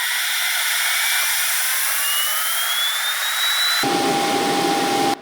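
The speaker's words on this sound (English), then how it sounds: "we must now wait ages for this good old APU to fully start up" A Boeing 737 APU spools up in the X-Plane 10 simulator, a loud steady turbine whine with a tone rising slowly, then a sudden shift to a fuller roar with a higher steady whistle near the end.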